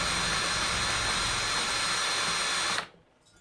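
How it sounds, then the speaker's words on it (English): A power drill whirs loudly and steadily close by, spinning an engine valve to lap its seat on a 1993 Range Rover cylinder head, then cuts off abruptly near the end. "Now the valve's not spinning at the drill speed."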